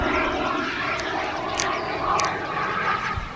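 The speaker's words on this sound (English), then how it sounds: "a sound which kind of sounded like a jet turned out to be an actual jet. RC models being flown on the day of our exploration" Remote-controlled model jet aircraft flying overhead at an abandoned military site, a loud sustained roaring whoosh that swells and fades slightly over a few seconds, with no speech.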